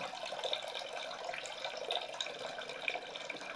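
Water runs from a tap into a container in a steady, even rush of splashing that continues throughout, close by and moderately loud, with no voices.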